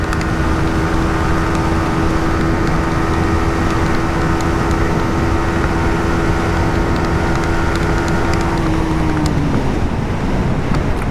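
Yamaha XSR 155 motorcycle engine pulling hard in fifth gear, a steady loud drone whose tone holds then drops near the end, mixed with heavy wind rush over the microphone.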